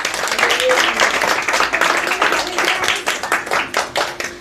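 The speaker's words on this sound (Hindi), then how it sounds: "जोरदार ताली बजाओ।" Congregation at a Hindi Christian church service clapping loudly together, a dense sustained burst of applause that thins into scattered claps toward the end, with a little voice mixed in.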